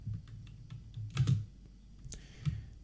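Computer keyboard typed in a short run of scattered clicking keystrokes, a few heavier key presses standing out, close and alone without talk.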